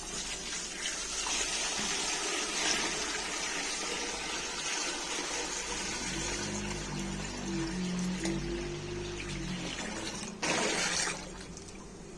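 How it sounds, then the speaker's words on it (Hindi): Water pours and gushes steadily into a cooking pot of haleem ingredients with garlic, turmeric and salt, a loud continuous splashing stream that deepens in pitch as the pot fills, then a brief louder surge near the end. "अब मैं इसमें पानी ऐड करने लगी हूँ।"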